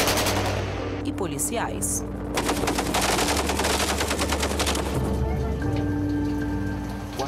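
Bursts of gunfire from crossfire between drug traffickers and police in a Rio de Janeiro hillside favela ring out as rapid, dense cracks that mix with a rain-like wash of noise, while a voice speaks briefly over it.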